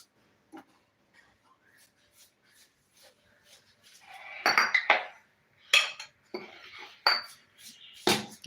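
A pot of masala for a country-style chicken dish is lifted off the stove, with metallic clinks and clatters of pot and utensils, sparse at first, then louder and more frequent, close by and without speech.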